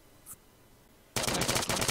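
Gunfire in an online first-person shooter game, a faint single click and then a sudden loud burst of rapid automatic fire near the end, with no talk.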